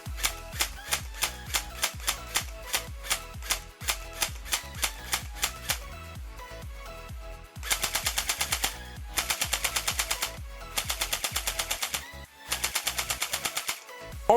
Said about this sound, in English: fill the magazine up, start the chrono up, and we'll see how hot this Lancer Tactical MMC is shooting